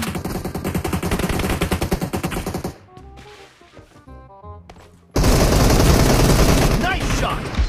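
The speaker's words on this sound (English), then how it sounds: "Nice shot!" Automatic weapon fire in the battle game PUBG during a team deathmatch: rapid, loud bursts near the listener, a brief lull with scattered shots and tones, then another dense, sustained volley.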